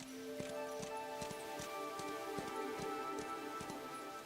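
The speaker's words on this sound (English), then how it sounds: "I should just summon my horse." A summoned horse clip-clops in the Where Winds Meet video game. Light, steady hoofbeats tap in a brisk rhythm, fairly quiet, over soft ambient music and a hum.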